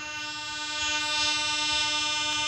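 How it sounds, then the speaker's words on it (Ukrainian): Kyiv metro train idling at a station before departure, with steady tonal whine and hum swelling slightly as it prepares to leave, loud and continuous, without speech. "зачиниться двері просто. Відправимось."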